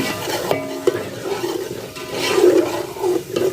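Water is poured into a pot while kadhi is cooked with coriander and turmeric powder, a steady close splashing and rushing with a brief clatter.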